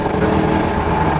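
Nissan 300ZX twin turbo with downpipes, hard wastegate lines and a naturally aspirated rear subframe, accelerating hard; a loud, steady engine roar fills the short stretch without letup.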